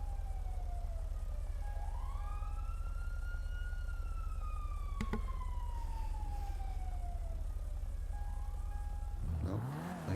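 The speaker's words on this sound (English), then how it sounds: "Oh, I hear more sirens." Police sirens wail in the Redline RP roleplay video game, rising and falling tones sweeping repeatedly at moderate distance, with a sharp click midway and a closer siren burst near the end.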